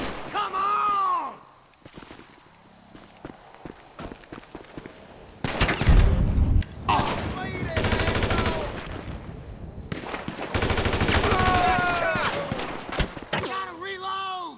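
Bursts of automatic gunfire in a Grand Theft Auto V shootout, loud sustained volleys alternating with sharp single shots, with shouting voices at the start and end.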